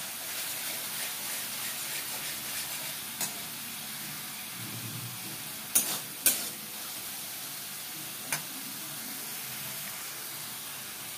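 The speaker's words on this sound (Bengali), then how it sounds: "ফ্লেমটাকে আমি কমিয়ে নিয়ে ভীষণ সাতলাই রান্না। এটা খুব ভালো মতন সাতলাতে হবে যতক্ষণ না অবধি তেলটা ছেড়ে যাচ্ছে মশলার থেকে।" Spices sautéing in oil over a low flame give a soft, steady sizzle and hiss, broken by a few brief scrapes and clinks of stirring.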